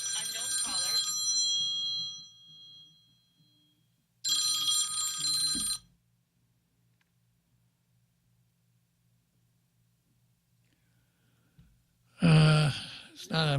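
A bell-type telephone rings with an incoming call during a talk radio broadcast, with three separate bursts of bright metallic ringing and long silent gaps between them.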